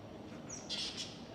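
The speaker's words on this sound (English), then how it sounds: "a lot of birds flying around" Birds chirp faintly and briefly in a town street in Innisfail, Australia, on an early morning walk, with a few high calls over a low, steady street background.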